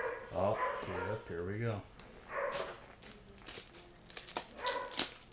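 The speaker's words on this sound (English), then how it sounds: "Sorry for the brief barking." A dog barks indoors in a few short bursts, mixed in with people talking close by.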